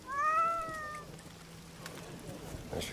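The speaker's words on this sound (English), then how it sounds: "Where'd the cat go? Need to add him to my cat picture collection." A cat in the Indiana Jones video game gives one clear, drawn-out meow over a quiet ambient background, followed by faint scattered noises.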